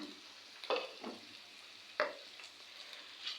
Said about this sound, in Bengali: নাড়াচাড়া করতে থাকি।